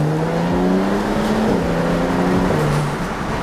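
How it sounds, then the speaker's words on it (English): A BMW 335i engine revs up and drops through a gearbox downshift, its pitch sweeping upward and stepping down again, loud and close from inside the car with no talk. "Let's give it a downshift and see how this gearbox"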